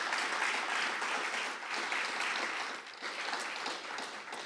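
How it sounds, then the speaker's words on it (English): Steady applause from an audience fills a Veterans Day ceremony in 2022, a continuous dense wash of many hands clapping at moderate distance that holds evenly throughout without talk over it. "Let's have another round of applause"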